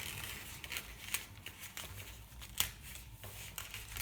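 Dried acrylic paint skins are peeled carefully off a plastic bag, producing quiet crinkling, crackling and tearing sounds with soft irregular snaps, close and without talk.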